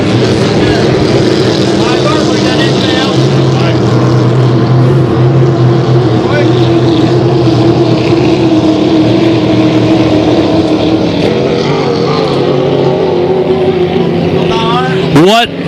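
Racing hydroplane boats in a qualifier heat roar past nearby, their engines loud and sustained with shifting pitch as they pass, and a commentator's voice runs over the noise.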